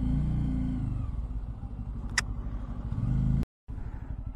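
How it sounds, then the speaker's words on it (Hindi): Heavy street traffic in Srinagar rumbles as a low, continuous idle of cars and engines, heard from a Bajaj Pulsar N250 motorcycle. One brief sharp sound cuts through the drone, and the audio drops out briefly near the end. "यहाँ हमेशा ट्रैफिक जाम ही रहता है"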